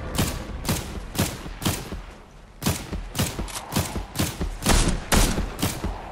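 Rapid bursts of gunfire from a powerful weapon in a Fortnite duos match, about a dozen sharp, loud shots in an uneven rhythm with brief pauses between bursts, no talking.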